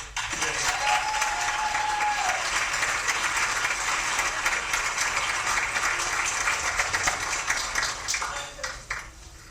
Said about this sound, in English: we just want more round of applause